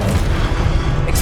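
Spell impacts from wand casting in the Hogwarts Legacy video game, a dense run of booming, blasting hits with heavy low rumble that stays loud and continuous across the short stretch, with no gaps between bursts.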